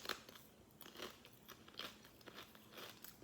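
Close, quiet crunches of a heavily seasoned potato chip, Indian street-snack style, bitten and chewed in a quick irregular series of crisp cracks.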